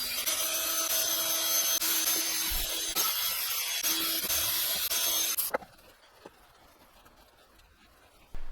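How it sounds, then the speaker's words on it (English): Wire wheel on a power tool scrubbing Toyota Corolla front brake parts with brake cleaner, a loud harsh continuous grinding that stops abruptly midway, leaving quiet workshop background and a brief restart at the end. "I'm going to go ahead and hit it with that same wire wheel and some brake clean to clean it up"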